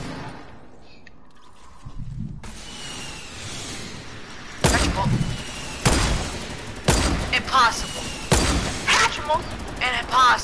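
Gunfire in a video game duo match arrives as several loud bursts of shots and booms, spaced a second or so apart and growing denser toward the end, with players talking over the action.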